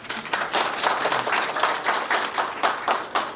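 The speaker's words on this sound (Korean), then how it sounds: "큰 박수 한번 부탁드립니다" Applause from an audience at an inauguration ceremony for a local development council chairman in Eumseong, a steady patter of many hands clapping with a rhythmic, pulsing swell, fairly near and without talk.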